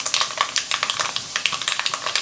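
Chana dal and urad dal frying in hot oil for a sweet and spicy tomato chutney, a steady close crackling sizzle with rapid small pops and stirring throughout, no voices.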